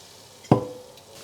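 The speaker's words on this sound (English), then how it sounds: "My frying pan is back on and I will add the pasta next." Drained asparagus pasta drops into a hot frying pan with one sudden wet slap and a brief sizzling burst that quickly fades to a faint, fizzing hiss.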